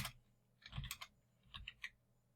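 Clicks from a computer keyboard sound in two short clusters while commands are entered on a Cisco switch. The keystrokes are close and fairly quiet, separated by a brief pause, and nobody speaks.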